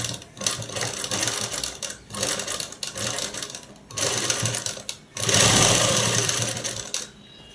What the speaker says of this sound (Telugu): ఇలా కుట్టు అనేది వేసేసుకోవాలి.